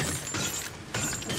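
A weapon reload clacks in Cryostasis, two short bursts of metallic mechanical clicking and rattling, close and moderately loud with no voices.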